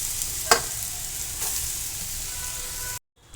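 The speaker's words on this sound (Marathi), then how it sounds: "आता मी याच्यामध्ये रताळीचा खीस व्यवस्थित भाजून घेणार आहे" Grated sweet potato roasts in a pan over medium gas, crackling with a constant sizzle and one or two sharper scrapes from stirring, then cutting off abruptly near the end.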